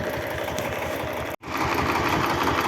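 A Chinese Dragon tractor engine idles close by with a steady, rhythmic mechanical chug. The sound drops out briefly near the middle, then the same even running resumes.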